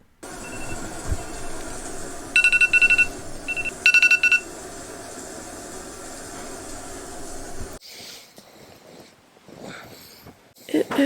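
A phone alarm tone repeats in two short bursts of rapid beeping over a low rumbling background, then gives way to quieter rustling.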